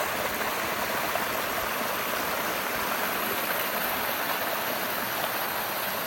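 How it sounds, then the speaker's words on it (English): Creek water in the Shenandoah Mountains gushes in a steady, loud, unbroken rush with no other sounds standing out. "Gushing water, that's what it is."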